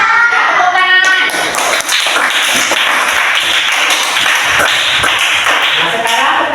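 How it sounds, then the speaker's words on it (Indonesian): Classroom students clap their hands together in a loud, rapid, sharp patter that continues throughout, with a teacher's voice briefly heard at the start. "Ya, tepuk tangan."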